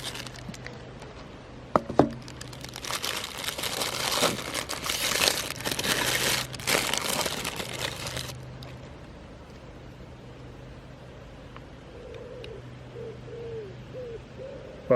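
Crinkling and tearing of recyclable paper packaging as a Star Wars Vintage Collection Phase II Clone Trooper figure is unwrapped, a dense close rustle for several seconds that then fades to quiet handling.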